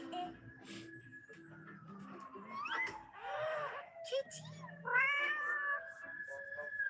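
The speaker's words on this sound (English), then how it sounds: "Girl. Cat. Girl. Cat." A house cat meows repeatedly in drawn-out, rising and falling cries up close, some strained and yowling, with someone talking quietly underneath.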